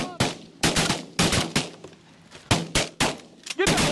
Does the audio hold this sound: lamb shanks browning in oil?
no